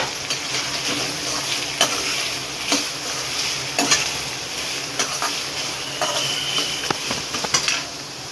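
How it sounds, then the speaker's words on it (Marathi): Chopped onions frying in hot oil in a pan for an egg masala gravy, a continuous close sizzle broken by regular scraping stirs and light taps of the spoon, with no talking. "कांदा टाकून व्यवस्थित मिक्स करून घ्यायचं आहे। तेलामध्ये कांदा एकदम व्यवस्थित मिक्स करून घ्यायचा।"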